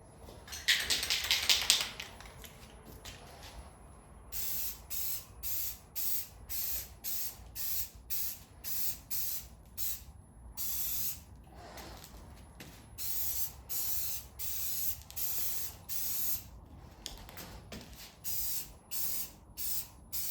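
A spray can lays a heavier coat of silver aluminum paint onto engine headers. After one longer hiss come a long series of short, evenly spaced, close spray bursts separated by brief pauses.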